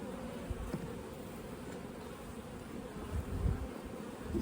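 A low, steady hum of honeybees buzzing close by in an open hive, continuous and dense, with a few louder passes near the end.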